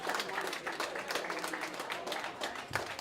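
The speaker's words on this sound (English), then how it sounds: "Can we get another round of applause for our amazing X Division competitors one time?" Steady applause at a New York State yo-yo contest, clapping for X Division competitors, heard as a continuous mass of claps at low volume from a distance across the hall.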